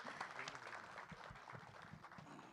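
An audience at a stage event applauds a Telugu singer with faint, distant, steady clapping that holds evenly for a few seconds.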